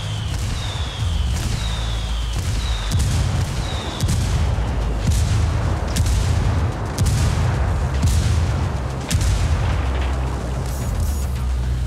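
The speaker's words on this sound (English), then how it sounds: "I called Pakatari for some mortar fire." Mortar rounds called in by rebels in Ghost Recon Wildlands land in a rapid series of heavy booms and sharp blasts, loud and close, with whistling incoming shells in the first seconds and rumbling impacts continuing throughout.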